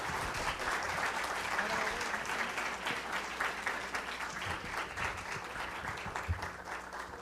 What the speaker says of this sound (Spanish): Un fuerte aplauso a la doctora, por favor.